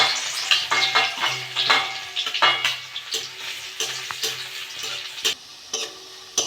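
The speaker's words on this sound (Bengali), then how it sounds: "রসুন আর শুকনো লঙ্কাটা ভেজে নিয়েছি" Garlic and dried red chillies frying in hot mustard oil, a crackling sizzle broken by repeated sharp stirring and spatula scrapes against the pan in an uneven rhythm, close and fairly loud.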